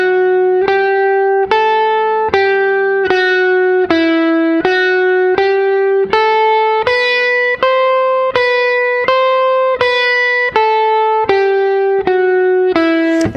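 Distorted electric guitar plays a blues-style speed-picking lick slowly, clear separate picked notes in a steady rhythm climbing and falling, loud and close with no talking.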